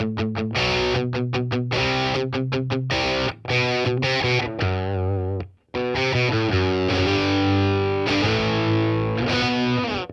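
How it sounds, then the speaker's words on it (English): Distorted electric guitar through a Boss Katana amp set to its Hughes & Kettner Triamp 3 lead model, a clear, not overly sizzly lead tone, with choppy palm-muted chugs, sustained notes and a short pause midway, loud and upfront. "T-Amp lead is a Hughes & Kettner Tri-Amp 3."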